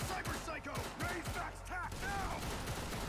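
Rapid gunfire in the anime Cyberpunk Edgerunners rattles as a fast volley of shots mixed with shouting voices and music.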